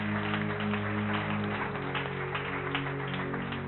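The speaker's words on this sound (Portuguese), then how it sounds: "Aplauda o Senhor mais uma vez." A church congregation at a Portuguese-language celebration service claps steadily together, a sustained wash of applause over a low musical hum, with no speech.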